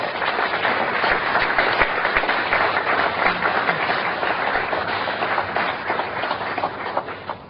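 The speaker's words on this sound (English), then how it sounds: "Give him a big round of applause." An audience at a memorial concert for a traditional Irish piper breaks into loud, sustained applause, a dense roar of many hands that carries on steadily and fades slightly at the end.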